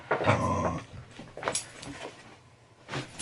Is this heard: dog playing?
yes